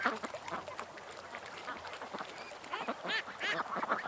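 Ducks on a lake give a faint, scattered run of quacks, some overlapping in short bursts that grow busier toward the end, distant and soft over quiet background.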